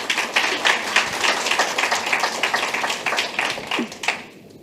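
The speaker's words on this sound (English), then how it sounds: "huge round of applause, please." Audience applause at a fintech entrepreneurship event, a steady wash of many hands clapping for about four seconds before fading out quickly at the end.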